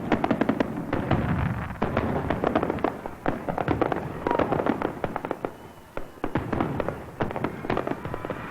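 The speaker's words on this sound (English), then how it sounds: "There were fireworks every night." Fireworks crackle and bang repeatedly, a rapid irregular barrage of sharp pops and booms at moderate distance.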